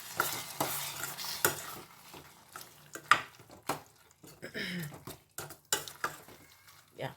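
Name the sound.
stirring tomato curry in a pot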